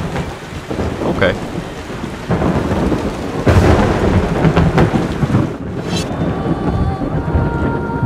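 Thunderstorm in the video game Yonder: The Cloud Catcher Chronicles, with loud rolling thunder and steady heavy rain on a ship, building to a sharp crack of lightning near the end.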